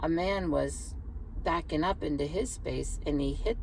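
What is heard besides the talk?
No everyday noises stand out.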